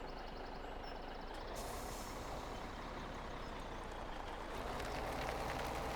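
Truck with air brakes in a farming video game, its engine rumbling steadily and fairly quietly throughout, with a brief hiss near the middle and no talk.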